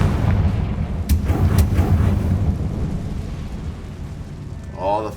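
The Confringo fire spell explodes in Hogwarts Legacy as a loud, sustained, roaring rumble that fades after a few seconds, with a short burst of voice near the end.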